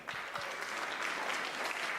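Faint audience applause at a comedy performance, a short, steady patter of clapping heard from a distance throughout.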